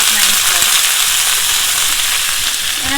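Sautéed onions and tomatoes sizzle steadily in a hot pan, a loud, close, continuous frying hiss with faint crackles and light stirring.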